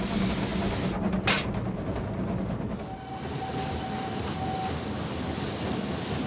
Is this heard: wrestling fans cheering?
no